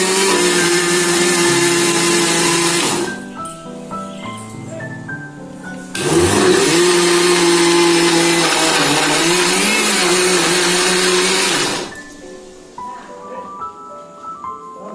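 A mixer grinder blending dosa batter whirs loudly in two long bursts of several seconds each, separated by pauses where only faint background sounds remain.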